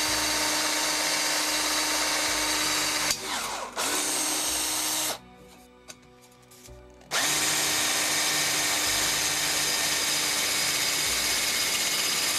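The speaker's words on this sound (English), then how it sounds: "So what I need to do is drill 4 holes for the corners." A power drill bores four corner holes in metal for a homemade hobo stove, its loud steady whine running for several seconds, cutting out briefly, then resuming under constant workshop noise.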